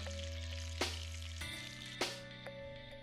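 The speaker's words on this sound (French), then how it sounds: "Dans ce même wok, on fait sauter les échalotes 20 secondes. On y jette l'ail, 20 secondes supplémentaires." Shallots and then garlic fry in a wok for Indonesian nasi goreng, a steady soft sizzle with a few sharp clinks or stirring bumps, close and without talk.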